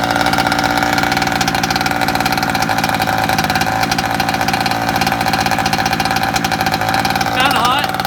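Rovan Baja 5b 29cc RC car engine idling steadily right after its first start, a close, continuous buzzing rattle with a brief rise in pitch near the end.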